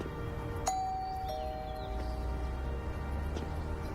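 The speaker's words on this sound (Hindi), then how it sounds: "डोरबेल बजाओ।" Doorbell at a house, a single clear electronic chime tone ringing out and sustaining over a faint background.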